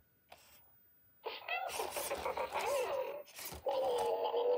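A Loona robot pet plays a programmed sneeze effect: a short burst followed by a longer voiced, cartoonish sneeze-like sequence with tonal sweeps, close and fairly loud after a quiet start.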